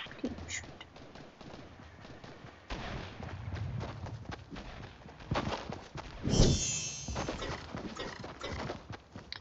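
Gunfire in a squads video game match comes as scattered sharp shots and bursts over a rough background with movement sounds, moderately loud and without talking.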